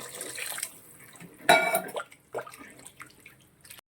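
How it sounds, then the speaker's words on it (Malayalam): Water poured into a pot of tomato rasam, a short splashing burst near the middle, followed by softer trickling and dripping, close and moderately loud with faint kitchen noise around it. "ആവശ്യത്തിനുള്ള വെള്ളം ചേർത്ത് കൊടുക്കാം"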